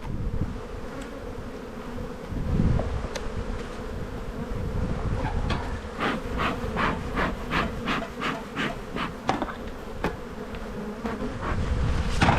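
A loud, dense hum of many honeybees swarms around an opened hive during a spring buildup in Australia. Close clicks and knocks of hive parts being handled sound through the buzzing, and no one talks.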